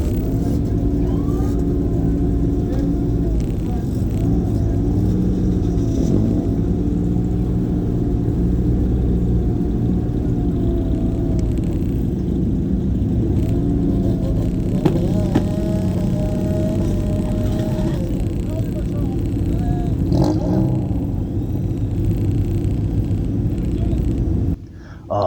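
Pontiac and prepped Beetle (Cox) streetcars accelerate hard down a drag strip at a Mosquitos drag race in Guiscriff, a steady loud engine roar with shifting pitch sustained throughout, with some voices mixed in.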